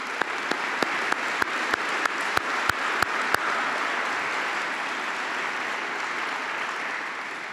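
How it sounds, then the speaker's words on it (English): Sustained audience applause at a State of the City event, with dense steady clapping filling the room and a few sharp, evenly spaced louder claps standing out near the start before the sound evens into a broad wash. "Let's give them all a round of applause."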